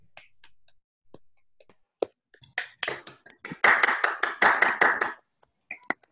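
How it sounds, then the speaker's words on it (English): A few participants in an online academic talk clap over their microphones, sparse taps building into a short burst of moderate clapping before trailing off. "give a clap for the speaker for giving such a nice talk"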